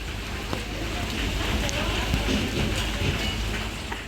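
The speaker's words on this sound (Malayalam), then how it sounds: "അപ്പൊ നല്ല മഴയാണ് കേട്ടതാ." Heavy rain pours steadily over misty hills, a dense, loud hiss of drops on surfaces with no let-up, close and continuous throughout.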